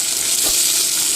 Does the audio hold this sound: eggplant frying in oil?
yes